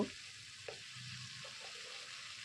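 Vegetables and peanuts frying in a pan, with sour yogurt going in for veg biryani, give a constant close sizzle, opened by a sharp clatter and broken by a couple of brief stirring knocks, with no voices.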